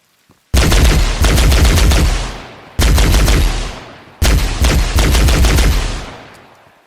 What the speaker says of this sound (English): it's literally just the default plasma pistol sound effect and not the Needler sound effect